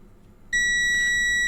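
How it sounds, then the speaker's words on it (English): After a moment of quiet hiss, the continuity beep of a Tesmen TM-510 multimeter starts abruptly, a steady high-pitched electronic tone held continuously, loud and close. "If it just beeps when it gets continuity, I assume."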